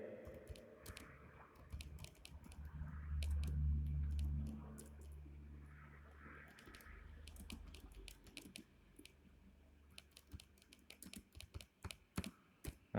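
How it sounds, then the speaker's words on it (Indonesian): Rapid, uneven clicking of keys on a computer keyboard, with steady typing bursts interrupted by brief pauses and a low background hum, the clatter growing sharper and more scattered toward the end. "Aku tak ngetik sit."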